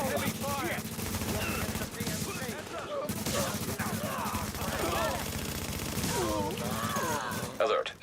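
Heavy automatic gunfire in The Division rattles continuously in rapid bursts, loud and dense, with a brief gap near the middle, while voices talk over the shooting.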